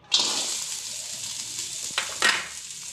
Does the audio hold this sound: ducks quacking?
no